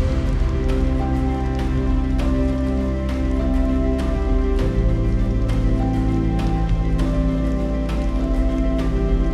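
Heavy rain falls in a Western Ghats forest, a dense, steady hiss and patter of drops on leaves and surfaces that stays loud and unbroken throughout, with no voices.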